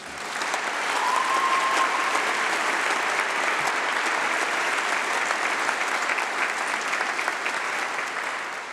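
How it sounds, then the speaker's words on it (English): Sustained applause from a large crowd, steady and dense throughout, with a faint whistle near the start. "he deserves a huge round of applause for that."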